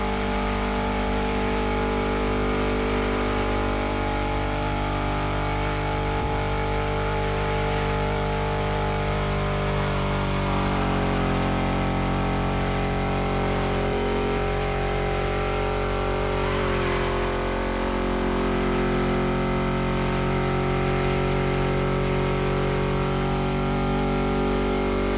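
A car engine in The Crew Motorfest hums continuously with steady harmonic drone, pitch dipping and rising around shifts, loud and alone without talk.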